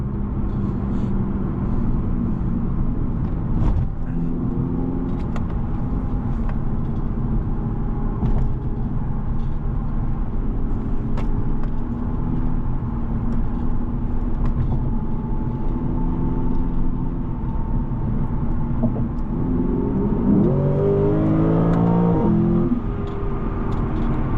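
A 2016 Lexus GS F engine hums steadily with low rumble, then rises sharply in pitch near the end as it revs and accelerates hard.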